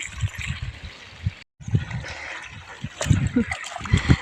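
Irrigation water runs in a farm field with a steady trickling, gurgling flow that carries on under people talking nearby.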